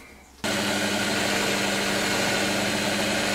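A Singer 201K sewing machine running steadily after oiling, starting abruptly and then holding a loud, even mechanical whir with a constant hum close by.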